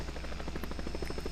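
A Bell H-13 Sioux helicopter in the X-Plane flight simulator game, with a steady, rapid rotor chop and engine buzz, fairly quiet and alone.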